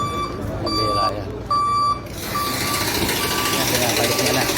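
A truck backing up, its reverse alarm sounding in steady repeated beeps over rumbling engine and street noise, with people talking nearby.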